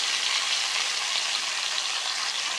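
Broccoli, salted beforehand, frying in the same hot oil used for an earlier batch: a steady, dense sizzle and crackle, close and even throughout, with no voices.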